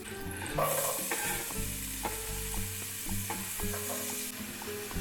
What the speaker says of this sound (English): gonna put a little bit of oil. And the first thing that I'm gonna put in is gonna be my garlic and also my onion.